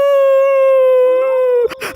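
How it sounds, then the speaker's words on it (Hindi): A long, drawn-out dog howl rings loud and close on one steady pitch before breaking off into rougher yelping at the end. "सारे कुत्ते आ गए क्या?"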